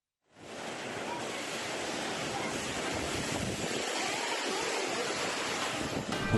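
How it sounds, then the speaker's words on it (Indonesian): Strong wind with heavy rain lashing a village in East Java: a dense, steady broadband roar of gusts and downpour that starts abruptly and holds loud and unbroken, with no voices. "Hembusan angin bersama hujan deras"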